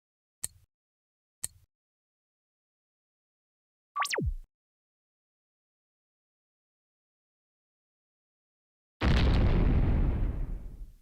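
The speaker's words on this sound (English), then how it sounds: "Did you hear that? It sounded like an explosion." Two sharp clicks, then a brief whooshing burst, and after a long silence a sustained roaring explosion in the video game Vacant Sky: Contention that fades slowly toward the end.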